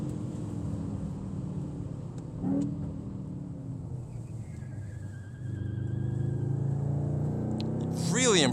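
A 4700 lb Mercedes AMG GT 63 S engine drones on a race track, a steady moderate hum that swells toward the end, with a voice talking over it throughout.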